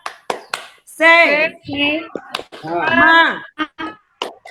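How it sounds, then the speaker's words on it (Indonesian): A classroom of students performs a rhythmic spirit clap, with sharp hand claps in quick patterned bursts between loud unison chanting voices, close and lively. "Kita ulang sekali lagi, tepuk semangatnya."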